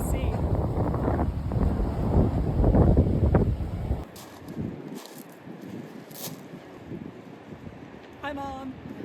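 Strong wind buffets the microphone on a Swiss mountain top, roaring loudly in gusts at first, then easing to a lighter rush, with voices talking over it.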